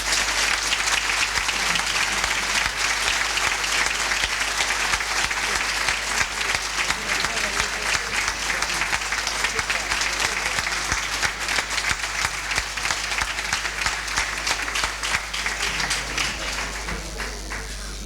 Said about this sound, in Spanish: Y tras estos efusivos aplausos que se suceden